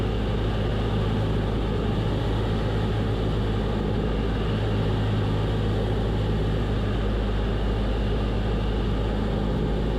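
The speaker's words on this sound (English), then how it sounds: "Now it's time to concentrate and fly the plane." A small airplane on approach to landing, heard from the cockpit as a loud, steady engine and propeller drone with a constant low hum that holds unchanged throughout.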